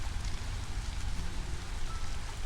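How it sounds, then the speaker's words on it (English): Steady rain hisses over the settlement in the video game Against The Storm, a dense, even wash of falling drops with a soft low rumble and no voices. "The rain has picked back up,"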